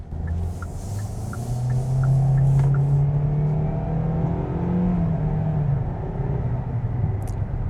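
A 2025 Kia Seltos S pulls out onto the road in normal mode, its engine note rising and swelling into a steady low rumble and whir from inside the cabin, with no talk.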